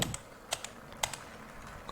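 Someone taps a computer keyboard shortcut, Ctrl+Z, while working in D5 Render. A few quick, close key clicks sound in a soft cluster against a quiet room.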